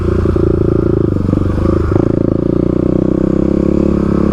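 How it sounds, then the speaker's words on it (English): A 35 hp Kawasaki KLX351 dual-sport motorcycle idles loudly up close, a steady throbbing low engine drone with a slight rise in pitch partway through and some mechanical clatter on top. "as you can see, the KLX is pretty loud"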